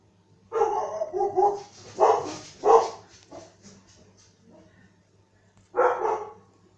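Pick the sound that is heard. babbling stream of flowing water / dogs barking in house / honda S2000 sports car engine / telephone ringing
dogs barking in house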